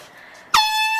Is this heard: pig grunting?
no